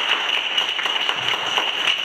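An audience at a GNU/Linux and free software talk applauds the next speaker, giving a steady, even wash of clapping at moderate distance with no voices over it.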